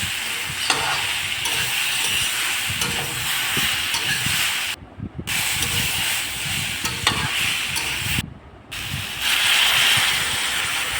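Fried vegetables in a hot pan sizzling loudly and hissing with steam as water goes in, a continuous close roar broken by two short silent gaps, with stirring scrapes throughout.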